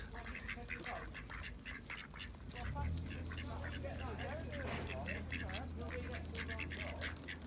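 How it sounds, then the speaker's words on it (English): Several ducks quack busily nearby on a canal in Marple, their calls overlapping continuously over a low rumbling background, with voices mixed in. "Marple ducks."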